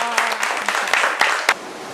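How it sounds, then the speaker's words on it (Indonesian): Classroom applause for a student group during a biology lesson, a short burst of clapping from several students with a faint voice underneath. "Tepuk tangan dulu untuk kelompok"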